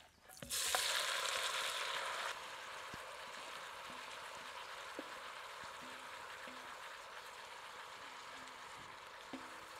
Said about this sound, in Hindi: अब मांस एवं मसालों के मिश्रण को इस बर्तन में डाल देते हैं।